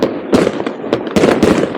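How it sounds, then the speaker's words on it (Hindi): Rapid New Year fireworks bursts in Norway crackle and pop in dense clusters, several loud broadband bangs with sharp onsets close together, no voices. "मेरे पीछे आपको आवाज़ें आ रही होंगी पटाखे बजने की"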